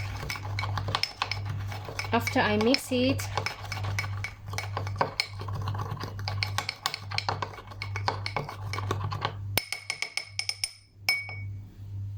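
A spoon clinks and scrapes in a small dish while toothpaste and lemon juice are mixed, producing irregular taps and clatters close by, with a person talking over the first part.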